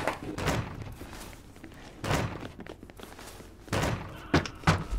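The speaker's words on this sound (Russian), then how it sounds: "Выбиваем двери!" Doors kicked in within the video game Secret Neighbor, several heavy thuds and slams spaced a second or two apart, loud and close, with no talk over them.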